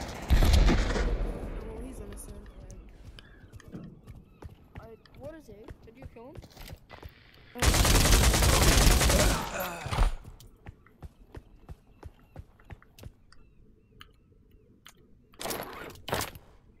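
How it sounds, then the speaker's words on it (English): Gunfire in the VR shooter Pavlov VR: loud, heavy bursts of shots, including one long sustained volley in the middle and sharp reports near the end, with people talking between them. "But where we just came from, there's gunshots now."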